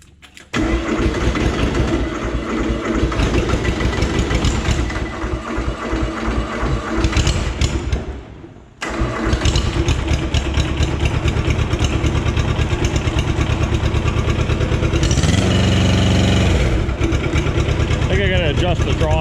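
The engine of a Cub Cadet 128 diesel tractor runs close by after a clutch replacement, chugging loudly with a rapid, even rhythm. It drops out briefly and then picks back up, with the pitch rising for a moment as the throttle is adjusted.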